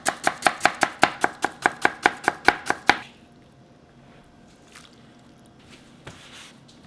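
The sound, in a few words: knife cutting food into thin matchstick strips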